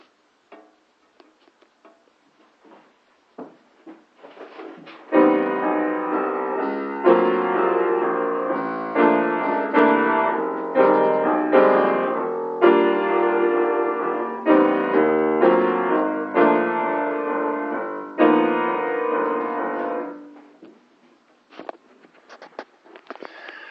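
Jazz piano playing a steady walking bass line under chords, even stepping notes for about fifteen seconds, preceded by a few soft scattered taps.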